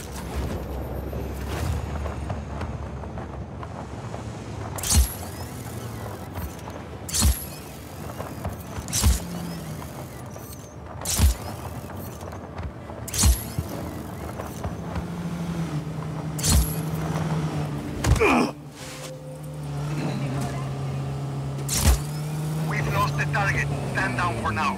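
Vehicle engine drone from a car driving in the video game Just Cause 4, a steady low hum running throughout with repeated sharp bangs and thumps scattered across it.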